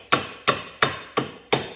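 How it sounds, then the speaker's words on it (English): Hammer striking a metal part while knocking it out of a Yamaha Raptor ATV front suspension: five sharp, evenly spaced metallic blows, close and loud, with no talking. "just a little tap with the hammer"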